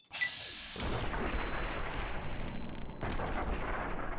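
Rifle fire in Fallout New Vegas, a booming shot followed by a rumbling noisy tail and a second heavy report, loud and close.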